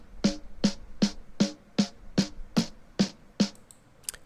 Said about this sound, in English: Both snare top and bottom sounds like this.